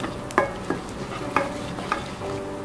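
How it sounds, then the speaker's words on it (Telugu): Ginger pieces frying in tempering spices in a pan for a bottle gourd curry, with a soft steady sizzle and a few sharp scraping clicks of a stirring spoon, close and alone. "ఈ అల్లం ముక్కలు వేసుకొని వీటిని 1/2 మినిట్ మనం ఫ్రై చేసుకుందాము."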